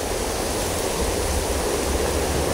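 Small river stream flowing in a steady, dense broadband rush of water, loud and close and constant throughout, no voices.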